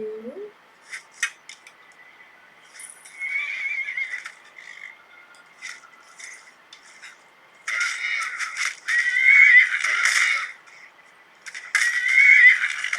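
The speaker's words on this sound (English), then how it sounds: "Leave my horse alone." A horse in the video game Skyrim neighs and whinnies in several bursts, with rattling and clattering noises between them, fairly close and loud.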